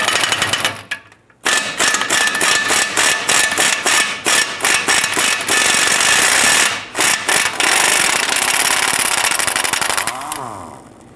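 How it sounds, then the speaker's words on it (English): An impact tool removing a rusted front lower control arm bolt on a 2002-2008 Dodge Ram 1500, loud close rattling hammer bursts repeated with brief pauses, ending as the tool spins down. "I'm going to go ahead and use my impact tool to now go ahead and remove that bolt."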